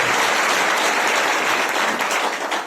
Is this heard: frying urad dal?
no